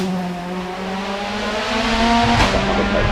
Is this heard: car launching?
yes